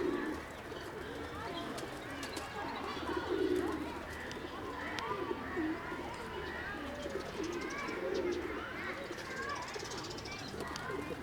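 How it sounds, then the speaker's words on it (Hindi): Pigeons of various kinds coo softly in repeated low, throaty bursts at Central Zoo in Kathmandu, Nepal, with other birds chirping faintly and people talking quietly in the background. "तरह तरह के कबूतर हैं"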